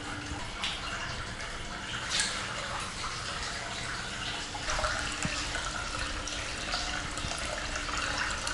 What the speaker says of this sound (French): Ce que vous entendez, c'est l'eau qui déborde en fait